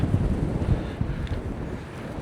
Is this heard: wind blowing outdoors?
yes